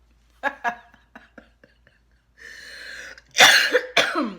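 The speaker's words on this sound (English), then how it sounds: "I apologize for all the coughing" A few short throat sounds and soft breathy noises, then two or three harsh, loud coughs up close.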